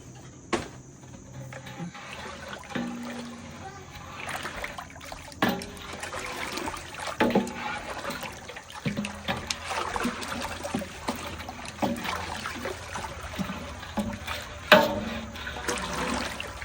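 Sugar pours from a 25-pound bag into water for making grape brandy, with an uneven stream of granular splashing, trickling and sloshing, and irregular clunks and bumps over a quiet background.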